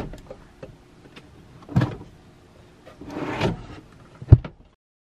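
The locking mechanism on a Northwood RV drawer is worked and released. Light clicks and a rattling slide are heard up close, followed by a sharp single clunk near the end and then quiet.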